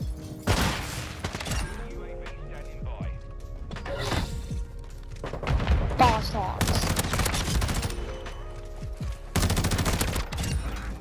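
Rapid bursts of gunfire from a video game shooter using the Tempus Razorback, repeated volleys crackling loudly across the stretch, mixed with a talking voice and other game effects.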